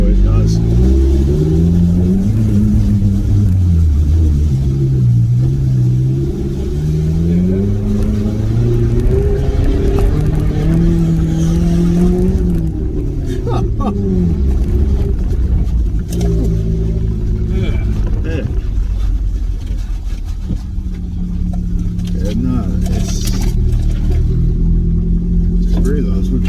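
A Suzuki Vitara is driven off-road in two-wheel drive through deep terrain. Its engine rumbles low and surges with revs throughout, beneath continuous conversation inside the vehicle.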